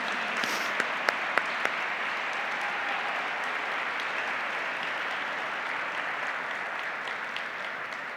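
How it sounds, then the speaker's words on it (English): Sustained, dense applause from an audience honoring arts award recipients at the Oklahoma Governor's Arts Awards ceremony, steady and even throughout with no talk over it. "Could you please help me give them a round of applause"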